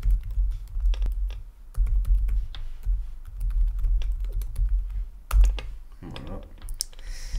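An email address is typed on a computer keyboard: close, quick bursts of key clicks in uneven runs with short pauses and a louder keystroke near the end, then a brief murmur of a voice.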